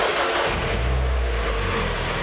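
A Mazda MX-5 Miata engine starts and runs steadily and loudly close by, its low rumble swelling briefly as though revved just after catching.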